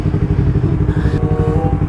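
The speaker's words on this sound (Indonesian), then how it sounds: "Ya aku bawa motor R25 ni." A Kawasaki R25 motorcycle rides through slow traffic, its engine a loud, close, steady rumble with some rattling and wind noise, no voices over it.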